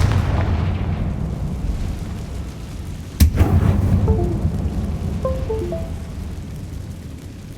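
Blasting-spell explosions in a Hogwarts Legacy mine: a rumbling, crackling low roar, then one sharp loud blast midway followed by falling debris and short tinkling magical tones.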